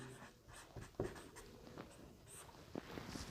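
A pen writes on paper while a Class 10 maths problem on surface area and volume is worked out, giving soft, close scratching strokes in short irregular bursts over a quiet background with no speech.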